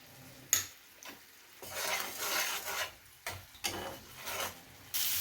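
Spice paste (masala) stir-fried in a pan for a Bengali rohu fish curry, heard as repeated scraping strokes of a spatula with soft sizzling, in irregular bursts separated by brief pauses.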